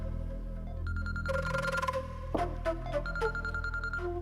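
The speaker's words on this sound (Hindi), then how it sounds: "किसका फोन है?" A phone's electronic ringtone plays a repeating tonal melody, moderately loud, with a few sharp clicks mixed in and no talking.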